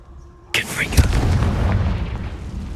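A Confringo blasting spell in the Hogwarts Legacy video game erupts with a sudden loud explosive burst, followed by a second thud and a sustained rumbling roar of combat that stays loud.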